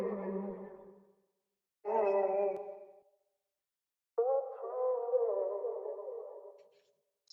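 Three sustained sung vocal phrases, each separated by silence, heavily drenched in echo and reverb with no EQ, so the tones ring and trail off smoothly.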